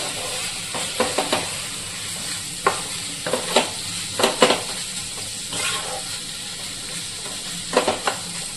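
Chicken chop sizzles in a covered pan with a steady frying hiss, broken by scattered sharp spits and pops and a few soft clinks of the lid and pan.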